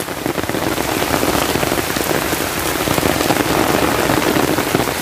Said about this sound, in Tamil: இந்த மாதிரி ஒரு மழையில நான் நடப்பல எதிர்பார்க்கல இன்னைக்கு.